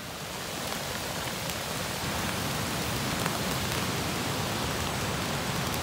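Rain pours outdoors where fishing lines are set for fish and frogs, a continuous broadband hiss that swells slightly and then holds steady, close and uniform, with no talking.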